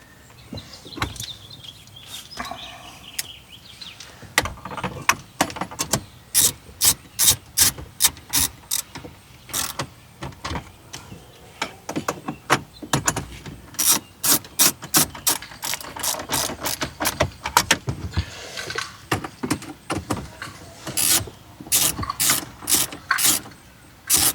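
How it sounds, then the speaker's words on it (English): A ratchet tightens side bolts on the dash of a 2013-2021 Lexus GX460 during a CarPlay install, producing close, loud bursts of rapid clicking that repeat in quick strokes throughout. "once I crank down on the bolts on the side, I think that should go away"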